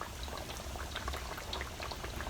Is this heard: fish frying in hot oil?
yes